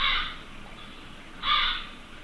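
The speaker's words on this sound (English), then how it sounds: "so it is a crow call" Crow cawing: two loud, harsh calls separated by about a second, close and clear against a quiet background with no talk.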